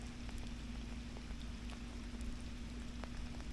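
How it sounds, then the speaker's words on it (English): Raindrops falling on water beside a fishing bank, a dense, steady patter with scattered sharper drops over a low, constant background rumble. "I think my bobber's got hit by a big raindrop."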